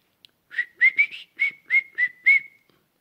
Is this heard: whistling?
yes